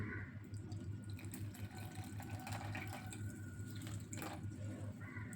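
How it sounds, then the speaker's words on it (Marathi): Water trickles softly into semolina in a bowl, a faint, quiet pouring and splashing sound at close range, with no voices. "आता हे पाणी आपण थोडं थोडं करून यामध्ये घालून घेऊ"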